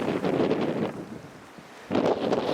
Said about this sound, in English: Sorry if this is too windy, but it's probably blowing like, I don't know, 20 knots at least right now.